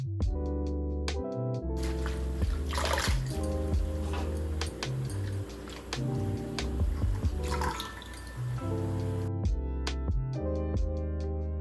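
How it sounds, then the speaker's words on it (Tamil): Picked spinach greens are washed in water by hand, with splashing and squishing sounds in the middle stretch under steady background music. "கீரை மட்டும் முன்னாடியே கிள்ளி வச்சதால் அதை அப்படியே எடுத்து வாஷ் பண்ணிவிட்டு"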